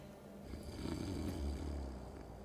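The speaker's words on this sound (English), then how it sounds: "Drunk and snoring." A drunk character in the video game Tainted Grail: The Fall of Avalon snores in long, low, rumbling breaths, steady and fairly quiet with no talk over it.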